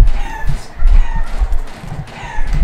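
Chickens cluck loudly and close in a video game, a rough run of repeated squawks and clucks over several seconds with no talk over them.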